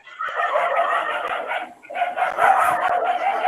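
Several dogs bark and yip in quick overlapping bursts, close and loud, with a brief pause partway through before the barking resumes.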